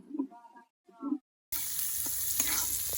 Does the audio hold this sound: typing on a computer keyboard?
no